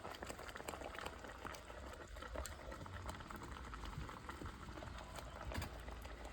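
Rice boiling in a clay pot, a steady bubbling simmer with a dense crackling hiss that holds continuously for several seconds with no speech.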